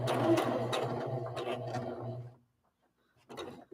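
A home sewing machine stitches fabric for a rag doll, a steady mechanical whir running for about two seconds before stopping, with a brief rustle and clunk of handling afterward.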